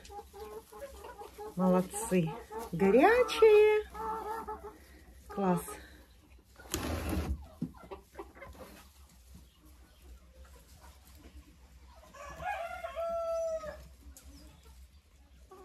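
Hens cluck and squawk in scattered bursts around a henhouse, with a sharp cackle early on and another run of calls near the end, while a person speaks a few words between them.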